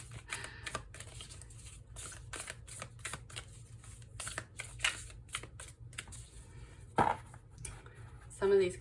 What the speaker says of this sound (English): Some of these cards are hard to shuffle a certain way, and then I try the other way